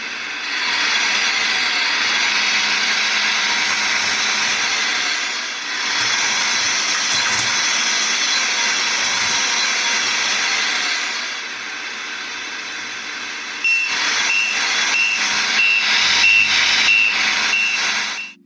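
Scania RC model truck fitted with an MFC 03 sound and light kit, playing a loud steady simulated engine drone for about thirteen seconds, then a run of evenly spaced reversing beeps over the running engine, with no talking.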